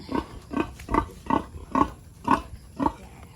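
Pigs eating feed made from madre de agua plant grunt and chomp in a steady rhythm, about seven close, regular bursts of snuffling feeding noise.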